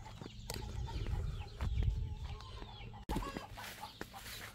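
Chickens cluck in short, repeated bursts on a 10-acre Indiana homestead, close and fairly quiet, with a brief pause before the clucking resumes.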